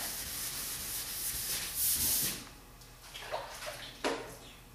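Hand sanding a primed Fiat Spider body panel with a sanding block, close-up rubbing strokes with wet scrubbing and a few sharper scrapes, uneven in rhythm and moderately quiet.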